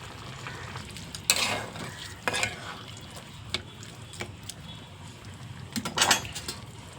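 Curry leaves drop into a sizzling mutton and cashew curry in a pan, giving steady frying hiss broken by a few sharper crackling bursts and occasional stirring clinks, close and moderately loud.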